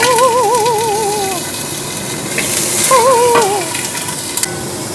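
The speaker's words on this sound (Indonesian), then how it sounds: "Saya goreng ikan asin." Salted fish frying in a hot pan without added oil gives a steady, close sizzle throughout, with a wavering, warbling tone rising over it twice.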